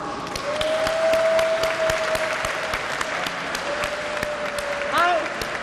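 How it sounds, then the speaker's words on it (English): Audience applause at an Asian Heritage Day celebration, a sustained round of many hands clapping through the whole stretch, with faint voices and a brief whoop near the end. "Can we give them a round of applause?"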